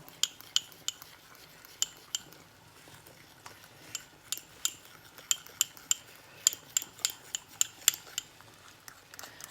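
Quick metallic clicks of a whisk or fork against a bowl, beating egg and flour batter in an irregular, speeding rhythm, close by with no talking.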